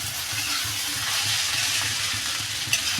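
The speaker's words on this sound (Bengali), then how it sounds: "বন্ধুরা পাতাকপি ভাজাটা আমার হয়ে গেছে আমি একটু ধনে পাতা কুচি দিয়ে দিয়েছি" Shredded cabbage with chopped coriander leaves fries in a wok, giving a soft, even hiss of sizzling oil throughout with a faint low rumble and a single small clink near the end.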